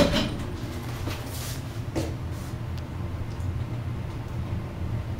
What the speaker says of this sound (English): Door close.